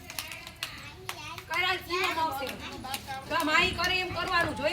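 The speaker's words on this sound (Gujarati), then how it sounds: "હા તાળી પાડો." Children clap their hands during free play in a group game, with scattered sharp claps mixed among lively children's voices and an adult speaking.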